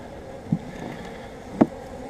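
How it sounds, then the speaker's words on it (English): Honey bees from a collected swarm buzz faintly in the background, with a couple of brief louder passes near the microphone over a quiet hum. "And we've got bees."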